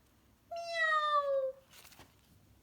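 A single clear cat meow rising then falling, close and fairly soft in a quiet room, followed by faint rustling.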